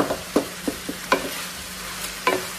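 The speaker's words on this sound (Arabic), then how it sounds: "الحين انزل البصل، شوفوا تقلى بالزيت وبالدهن اللي طلع من اللحم" Onions stirred in a pan of hot oil and fat rendered from meat, for a squash-and-yogurt dish, with several sharp scraping stir strokes over a faint steady sizzle, close and moderately loud, no talk.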